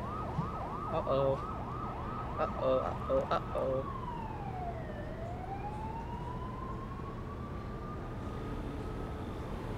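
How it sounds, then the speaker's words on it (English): A video game siren wails, rising and falling repeatedly, then slides into a long sweeping tone, with a brief startled exclamation over it. "Oh, I hear sirens."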